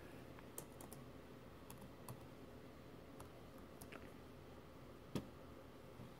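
Keys clack on a computer keyboard in short, irregular bursts with a few sharper clicks standing out, faint and close against a quiet room, with no one speaking.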